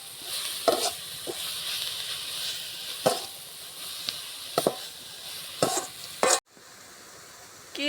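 Salted spinach (keerai) frying in a pan, stirred with a utensil: steady high sizzle broken by several sharp scraping strokes, then a sudden drop to quieter sizzling near the end; no talking.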